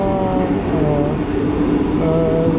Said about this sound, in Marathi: तर रेल्वे गेट वर एक रेल्वे गेली, आता संगत 2 रेल्वे आहेत.